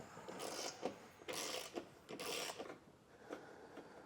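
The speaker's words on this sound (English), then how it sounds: "So we'll go ahead and get those removed with that 15mm socket and extension" A 15mm socket on an extension works loose the nuts on a 2022 Tesla Model 3 bumper beam, giving several short, close mechanical ratcheting bursts separated by brief pauses.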